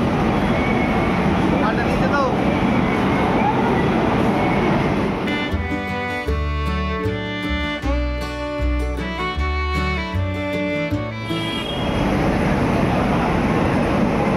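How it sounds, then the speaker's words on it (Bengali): The Shantiniketan Express, Howrah to Bolpur, standing at a station platform amid busy platform noise, with a loud, steady, multi-toned drone swelling in through the middle and then fading away. "ট্রেন আমাদের দাঁড়িয়ে রয়েছে।"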